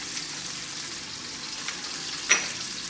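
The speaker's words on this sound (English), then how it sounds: "Get a nice big chunk of butter and put that right in the pan." Kerrygold butter melts with a soft, steady sizzle in a hot pan, fairly faint, with one brief louder clink or splash near the end.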